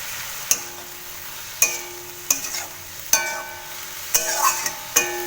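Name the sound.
stirring water spinach in a pan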